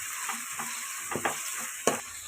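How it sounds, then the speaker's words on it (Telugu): Onions, curry leaves and spices deep-frying in oil in a pan for fish curry, with a steady hiss and sizzle and a few soft stirring scrapes, no talking. "అన్నీ డీప్ ఫ్రై అయ్యేలా చూసుకోవాలండి."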